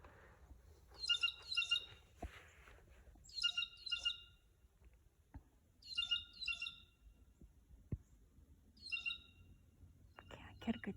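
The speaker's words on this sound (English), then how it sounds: "Squawking at me. Or is that a blue jay? It's a blue jay." A blue jay calling near a backyard bird feeder, with several harsh, bright squawking bursts repeating every few seconds between quieter pauses. It is fairly close and heard alone.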